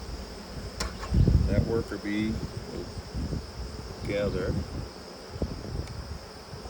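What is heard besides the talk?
worker honey bees buzzing at a hive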